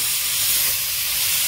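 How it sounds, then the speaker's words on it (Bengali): Grated raw mango tipped into hot oil that already holds fried ginger, garlic and green chilli, giving a steady close hiss and sizzle that runs unbroken the whole time. "এবারে যে আম দুটো আমি গ্রেট করে রেখেছিলাম তেলের মধ্যে দিয়ে দেব"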